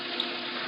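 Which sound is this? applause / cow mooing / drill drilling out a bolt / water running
water running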